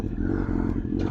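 Kawasaki Z800 engine rumbling steadily with a low, throbbing note and faint clatter, close by, over a short stretch.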